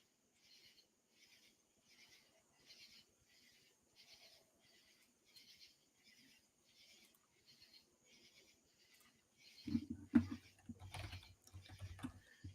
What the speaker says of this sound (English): If you hear me typing, I apologize.